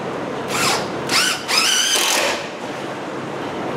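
A power drill drives screws through plywood into a dog house frame, three short whirring bursts close together followed by a quieter pause, with no speech.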